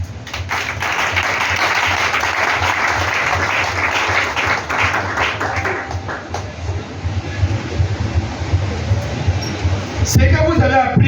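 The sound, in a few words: church congregation applauding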